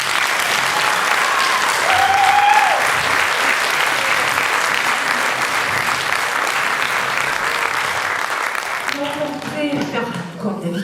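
Audience applause at a stage show, a long, loud, sustained round of clapping from a large crowd, tapering near the end as voices and a few cheers come through.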